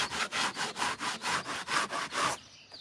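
Wood being sanded by hand in a barn, about nine even back-and-forth rasping strokes in a steady rhythm, close and clear, then stopping.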